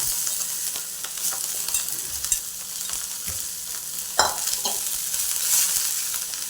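Tender chickpea leaves and chillies stir-fry on a very hot pan, producing a bright, steady sizzle with occasional scraping strokes of the spatula, close and fairly loud.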